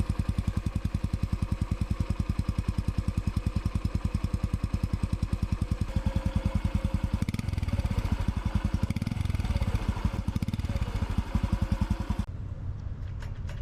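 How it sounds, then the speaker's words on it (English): Honda CT125 Hunter Cub motorcycle idling, its single-cylinder exhaust putting out a steady rapid putter close by, with a brief blip of revs near the end before the engine cuts off. "Here is your exhaust note for those of you who insist on hearing exhaust notes."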